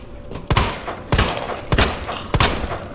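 Gunshots at zombies in Resident Evil 2 Remake crack out loud and close, five sharp shots spaced at roughly even intervals with short gaps between them.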